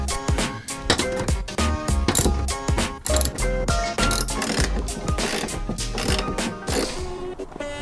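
Ratchet tightening Corbeau seat bolts inside a Nissan 240SX S13, a rapid, continuous run of loud close clicks in repeated strokes with brief breaks between them.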